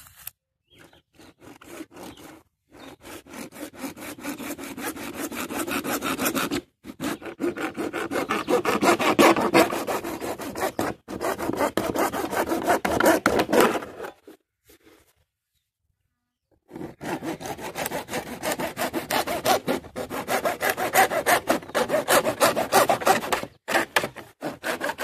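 A fine-toothed wood saw cuts through a gutter in steady back-and-forth strokes, close and fairly loud, with brief pauses between bursts of sawing and no talking.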